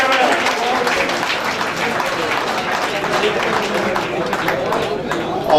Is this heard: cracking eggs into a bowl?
no